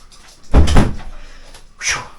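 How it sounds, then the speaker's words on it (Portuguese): A door being opened to let a small dog named as a pet out, giving a brief knock-and-creak thud near the mic, followed a moment later by a short lighter rattle, with no talking. "eu vou abrir aqui a porta para Sila, hein?"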